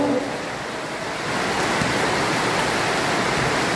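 Heavy rain pours down during a basketball game, a loud, unbroken hiss that rises a little after the first second and holds steady.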